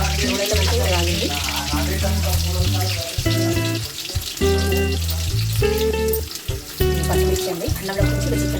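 Onions frying in hot oil in a cooker pot crackle and hiss steadily under loud melodic background music.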